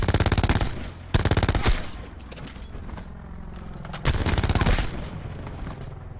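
Bursts of automatic gunfire rip through a Black Ops 4 match aimed at barbed wire, with loud rapid volleys at the start, at about one second and again near four seconds, and quieter rattling between them.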